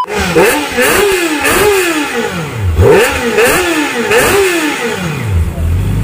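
A Kawasaki Ninja ZX4RR 399cc motorcycle engine at a dealership revs repeatedly, several sharp rising and falling blips in quick succession, loud and close with no talk over it.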